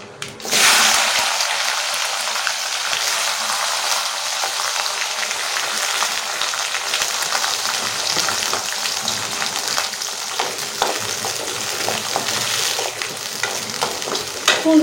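Small garlic cloves sauté in oil in a pan for a garlic kulambu, giving a steady, close, loud sizzle with occasional stirring scrapes that runs throughout, with no talking.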